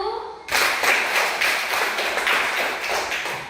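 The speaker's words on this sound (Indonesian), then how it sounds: "tepuk tangan untuk kelompok 1" A classroom of students claps for a group after a lesson answer, a sudden burst of rhythmic hand claps following a brief spoken moment.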